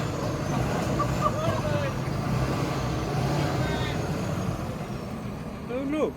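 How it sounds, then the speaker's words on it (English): A car climbs a steep San Francisco street, its engine a steady broadband rumble close by amid general traffic noise, with people talking over it throughout. "Oh, it's a car coming."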